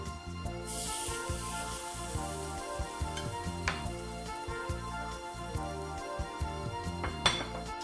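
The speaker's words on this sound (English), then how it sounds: "So let me remove it from my pan." Metal pan and utensils clink and scrape steadily while cooked Montecristo dessert is lifted out, with a few sharper clinks standing out over a low continuous kitchen background.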